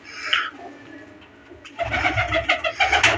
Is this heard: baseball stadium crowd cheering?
no